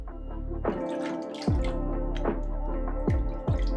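Apple compote and almond milk being mixed together in a bowl, a series of close wet plops and sloshes recurring roughly every half second to second.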